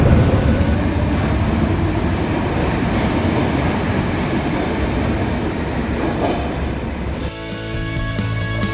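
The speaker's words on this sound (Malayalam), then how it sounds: "ഇത് മെട്രോ സ്റ്റേഷനാണോ?" A Stockholm metro train rumbles loudly and steadily through the station, then the noise drops and a tonal whine with a rising and falling pitch takes over near the end.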